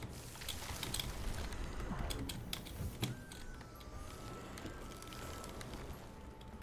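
Computer keyboard keys and mouse clicks rattle quietly during Skyforge gameplay, a run of quick, irregular clicks that bunch together and then thin out.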